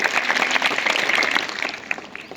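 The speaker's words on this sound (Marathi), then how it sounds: "अरे योगेश्वरीसाठी डबल टाळ्या वाजवायच्या आहेत" Audience clapping fills a junior college quiz competition, a steady dense burst of applause that tapers slightly toward the end, with faint voices mixed in.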